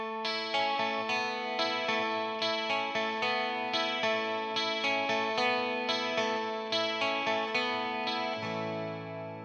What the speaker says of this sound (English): we're gonna use a technique called arpeggio picking